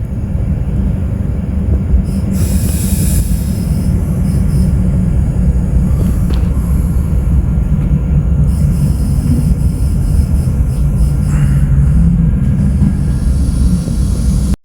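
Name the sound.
diesel train running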